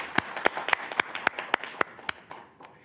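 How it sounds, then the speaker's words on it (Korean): Sparse applause for a chairman arriving at a meeting: a few people clap in loose, distinct, close claps that thin out and trail off within a couple of seconds. "박수 한번 부탁드리겠습니다."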